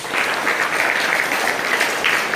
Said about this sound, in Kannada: ಎಲ್ಲರೂ ಅವನಿಗೆ ಒಂದು ಚಪ್ಪಾಳೆ ಹಾಕಿ